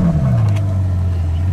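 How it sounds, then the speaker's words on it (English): A Ferrari 812 Superfast V12 engine note drops from a rev into a deep, smooth idle rumble, loud and close, no talking. "The sound of a wonderful Ferrari V12."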